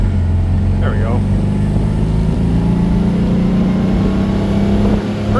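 A 1956 Volkswagen Oval convertible with a standard shift, its engine droning steadily and loudly from inside the car while driving, with a short vocal sound partway through.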